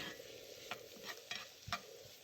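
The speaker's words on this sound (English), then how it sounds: "yellow pepper. And I'm gonna saute it a little bit." Green, red and yellow pepper sautéing in a pan gives a soft continuous sizzle, broken by a few brief scraping stir strokes, close and quiet.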